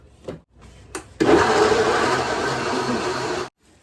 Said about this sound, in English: Let's blend.